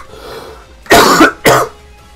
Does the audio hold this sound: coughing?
yes